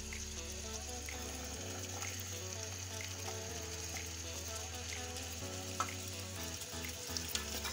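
Potatoes being stirred into a masala and frying in a pan for a mixed vegetable sabzi, a steady sizzle with scraping, clicking spoon strokes against the pan throughout, no voices.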